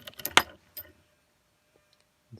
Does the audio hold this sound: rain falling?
no